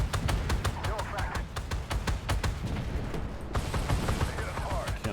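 Gunfire in the video game Echoes of War, with rapid regular shots rattling in quick succession and a brief pause before the firing resumes, loud and continuous under someone talking.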